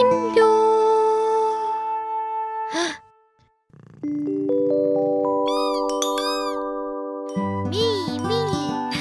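A cartoon cat meows in a children's song, short tonal cries and a sighing call among jingling, tinkling musical notes, loud and close with a brief pause midway.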